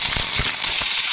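Mustard seeds, urad dal and curry leaves for a chutney tempering crackle and pop in hot oil, a loud, dense burst of sputtering snaps close by, with no voices.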